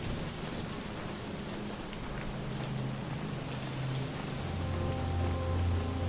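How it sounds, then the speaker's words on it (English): Steady rain falls in the video game How We Know We're Alive, a dense, even hiss with no talking, joined near the end by a low rumbling drone. "I just really love the sound of rain."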